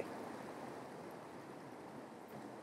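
Steady river water flows at a riverbank, a continuous broadband rushing wash at moderate level with no voices and no clear breaks across the short stretch.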